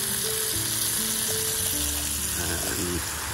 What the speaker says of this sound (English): So I'm going to fry them quite hot, hopefully counteract that.